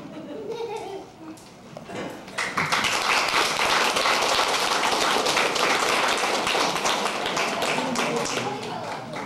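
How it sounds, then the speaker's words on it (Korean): Guests at a 60th birthday party in 1992 break into a burst of hand clapping after a toast, loud and close, continuing for several seconds over mingled voices and children's chatter. "마시시고는 박수를 치셔야 됩니다"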